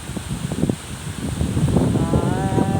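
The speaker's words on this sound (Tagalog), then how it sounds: "Oh, hangin amihan yan." Strong northeast monsoon wind (amihan) buffets the microphone and rushes through nearby foliage in gusty bursts, a rough continuous roar.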